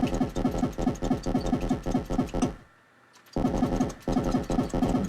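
Rapid gunfire in the shoot 'em up game Blazing Thunder, a steady stream of fast repeated shots that briefly drops out mid-clip before resuming, loud and continuous.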